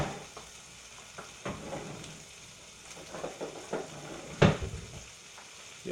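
Food sizzling in a hot oiled pan, a soft continuous frying hiss broken by scattered stirring scrapes and clinks, with one sharper clatter near the end.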